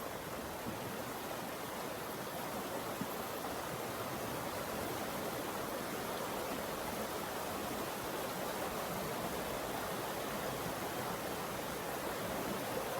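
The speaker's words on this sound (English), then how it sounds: "Was the audio with a beautiful babbling brook in the background." A babbling creek flows close by in a steady, even rush of water that fills the whole stretch without pause, with no voices over it.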